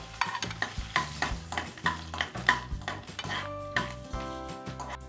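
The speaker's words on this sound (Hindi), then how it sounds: "अब इसमें डालेंगे लहसुन और अदरक" Garlic and ginger sizzle in hot butter in a pan while being stirred, with repeated scraping and clinking strokes over a steady crackle, close and moderately quiet.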